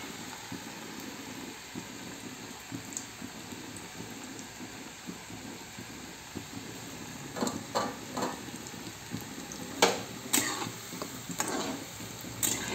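Food frying crisp in hot oil in a home kitchen, a low steady sizzle with occasional louder bursts of crackle and stirring toward the end, no voices.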